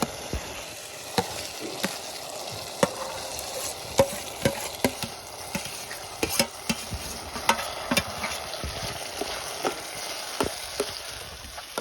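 Food fries steadily in hot oil with a constant close sizzle, broken by sharp clicks and scrapes as a utensil stirs the pan.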